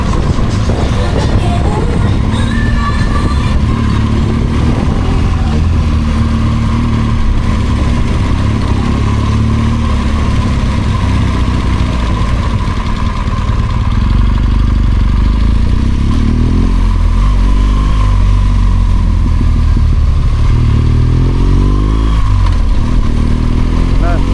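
A BMW R1200GSA Adventure motorcycle rides along the Bugak Skyway in Seoul with a steady engine drone and rushing wind throughout, while someone talks over it for most of the stretch.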